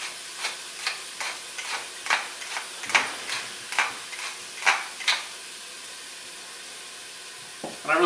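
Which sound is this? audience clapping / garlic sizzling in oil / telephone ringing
garlic sizzling in oil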